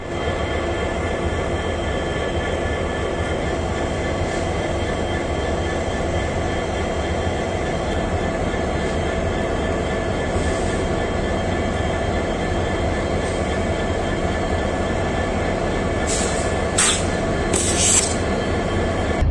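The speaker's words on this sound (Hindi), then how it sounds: "ट्रेन हमारी निकल चुकी है NGP रेलवे स्टेशन से" Rajdhani Express pulling out of NGP railway station behind a WDP 4D diesel locomotive, a loud steady rumble of wheels and carriages with a few sharp squeals near the end.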